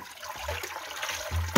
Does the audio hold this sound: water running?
yes